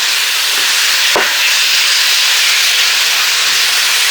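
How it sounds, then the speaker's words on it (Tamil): Onions, tomatoes and green chillies sauté in hot oil for chilli bread, a loud, continuous hiss with one brief sharp clatter near the start and no one talking. "வெங்காயம், தக்காளி, கொச்சிக்காயெல்லாம் ஓவராக வதங்க தேவையில்லை, மீடியமில் வதங்கினா போதும்"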